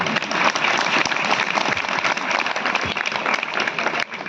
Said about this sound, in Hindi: आप लोग ताली बहुत कम बजी है।